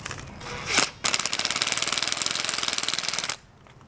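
A hammer drill drives a concrete anchor into a driveway paver, a brief burst followed by a sustained rapid rattling hammer action that stops abruptly, close and loud.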